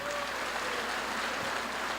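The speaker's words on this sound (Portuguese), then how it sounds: "aplauda a Deus" Continuous clapping from a church congregation fills the short stretch, dense and even, heard at a moderate distance with faint voices mixed in.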